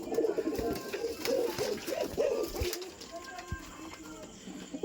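Domestic pigeons cooing in a home coop that holds eighteen birds, including a pair of Giribaz; soft repeated low coos overlap continuously at close range, with a steady murmur of roosting birds and no talking.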